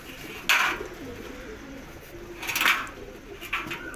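Pigeons coo nearby in a loft, three soft rolling bursts spaced a couple of seconds apart over a quiet background.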